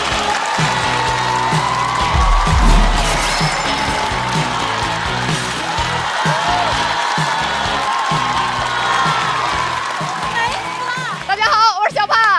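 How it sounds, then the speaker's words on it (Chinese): A live stand-up comedy audience greets a comedian with loud, sustained applause, cheering and whoops, the crowd noise steady throughout before a voice briefly cuts in near the end. "掌声欢迎小帕。"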